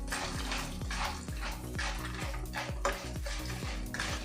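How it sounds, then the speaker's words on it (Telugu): Peanuts and chana dal are stirred into a puffed rice (murmura) mixture, producing a steady series of scraping, rattling strokes of spoon against pan at a regular rhythm, close and clear with no talk. "పల్లీలు, శనగపప్పు వేసుకొని కలుపుకోవాలి."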